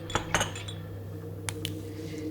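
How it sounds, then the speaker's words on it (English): Glass bottles clinking behind the bar of an old country hotel, the North Kapunda Hotel: two sharp clinks close together early on, then a pause and two brighter taps, all over a steady low electrical hum with no voices. "The bottles are moving."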